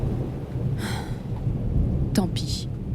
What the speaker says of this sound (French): un orage éclate